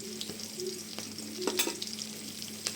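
Chopped onion and garlic fry in mustard oil in a pan, a soft steady sizzle with a low background hum and a few faint spatula taps, quiet and close, no talking.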